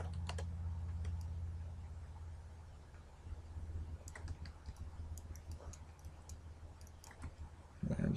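Typing a value on a computer keyboard: a few quick key clicks at the start, then a longer burst of light, rapid tapping from about four seconds on, close and fairly quiet over a low steady hum.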